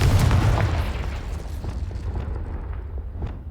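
Confringo blast spell in Hogwarts Legacy erupts in a loud, deep booming explosion that rumbles and slowly fades with crackling debris.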